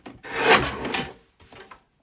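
A paper guillotine trims a DL-size card layer, giving one sustained rasping slice about a second long followed by a shorter second pass, close and fairly loud with no talk.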